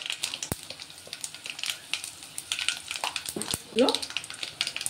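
Dried red chillies, fenugreek seeds and asafoetida crackle and sizzle in hot oil for a South Indian tomato rasam tempering, with close, uneven popping bursts and a brief stirring scrape near the end.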